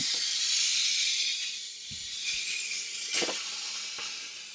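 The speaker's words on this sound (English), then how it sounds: "First, we're gonna let the steam out." A pressure cooker vents a steady, loud hiss of steam continuously inside an RV, with a few soft clicks and knocks underneath.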